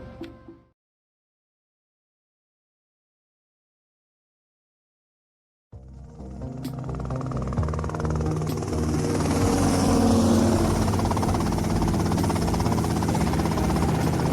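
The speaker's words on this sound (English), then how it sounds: "Okay, that's them in the chopper." Helicopter in Grand Theft Auto Vice City, heard after a short blip and several seconds of silence as a loud, steady engine whir and rotor buzz that rises and then holds, with no voices.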